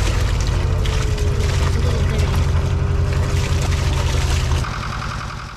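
A sailboat's inboard engine runs steadily with a low, continuous drone while salt water gushes from the exhaust into the sea. The sound stays loud and even, then softens near the end.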